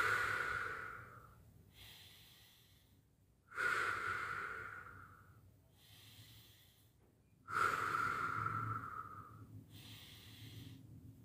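Slow, deep breathing during qi gong meditation, with three long audible inhales that start strong and fade, separated by quieter exhales in an even unhurried rhythm, close and soft.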